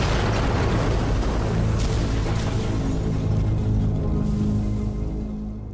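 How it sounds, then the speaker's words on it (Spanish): A charge of two tons of TNT goes off against the walls of a fort. A loud, sustained roar and rumble fills the whole stretch and fades slowly at the end. "La explosión fue un éxito"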